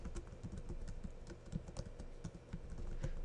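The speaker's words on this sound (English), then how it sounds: "So now that's what I'm typing right there in the run command." Fingers type a path on a computer keyboard, a rapid irregular patter of light key clicks, close and fairly quiet, with no talking.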